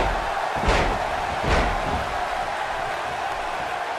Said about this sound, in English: He slams him down with authority